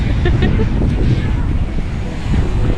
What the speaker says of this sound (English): I'm very sorry if it's windy now